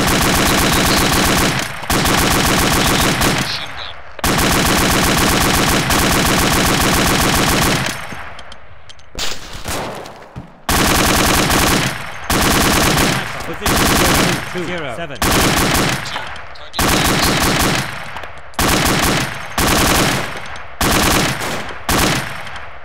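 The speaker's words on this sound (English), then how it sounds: "I like this machine gun" Machine gun firing in a military base-defense video game, long loud sustained bursts of rapid automatic fire broken by brief pauses, then shorter repeated bursts close up.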